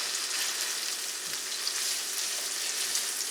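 Fried rice with soy sauce sizzling in a skillet, a steady, fairly quiet hiss of frying with faint stirring scrapes and no talk.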